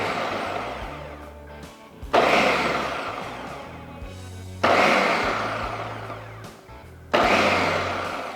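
A Ninja Detect blender minces onion in three loud pulsed bursts, each starting abruptly and winding down before the next, with whirring motor and chopping texture, up close and with no talk.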